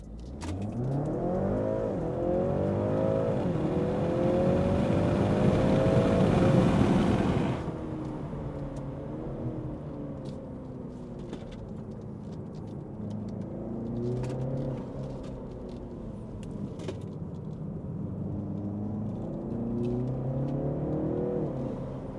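A Stage 2 tuned BMW G21 330e hybrid pulls hard from inside the cabin, its deep engine note climbing through gears with loud rising sweeps, then easing off into a lower, steadier drone with smaller surges.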